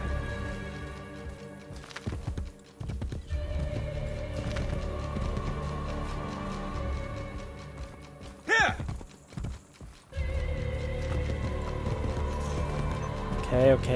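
A summoned horse gallops in the video game Assassin's Creed Brotherhood, with rapid rhythmic clip-clop hoofbeats, a brief whinny and game music, under someone talking.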